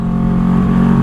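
A Kawasaki Z650 inline motorcycle engine runs on the road at a steady loud drone, with the throttle held open and the quick shifter in use.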